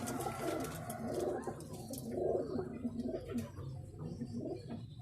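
Chinese and Sialkoti pigeons coo in a loft, soft rolling coos repeating steadily through the whole stretch with occasional higher chirps and rustling mixed in.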